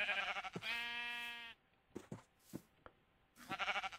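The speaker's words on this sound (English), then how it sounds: "I hear another sheep." Sheep bleating in the video game Minecraft: one long, harmonic bleat near the start, a few soft clicks in the quieter middle, then a shorter bleat at the end.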